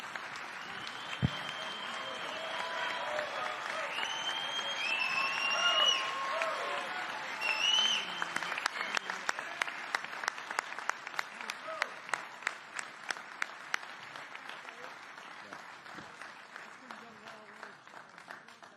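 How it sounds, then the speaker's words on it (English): A crowd rises in a standing ovation after a speech by President Biden, dense applause swelling and rolling steadily, with sharper individual claps cutting through toward the end. "Everyone is giving you a standing ovation."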